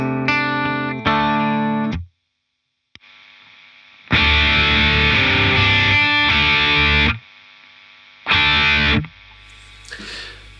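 Electric guitar played through a BIAS Amp JTM amp model with the pedal bypassed and every control set to 12, giving bursts of driven chords and riffs separated by pauses, with a faint hum in the gaps.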